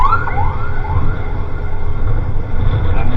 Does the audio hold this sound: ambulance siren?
yes